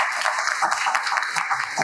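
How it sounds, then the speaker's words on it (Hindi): A meeting crowd claps together in welcome of a food safety officer, a dense steady patter of many hands lasting a couple of seconds at moderate loudness, with faint voices underneath. "मैं चाहूंगा सभी लोग ताली से स्वागत करें।"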